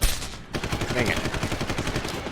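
Rapid gunshots from a firearm in the stealth action game Deus Ex: Human Revolution, a burst of repeated sharp cracks following a loud opening shot, with no talk.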